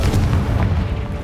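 A Confringo fire spell detonates in Hogwarts Legacy. It sounds like a deep, booming blast with a sustained low rumble that fills the whole moment at steady loudness, with no speech.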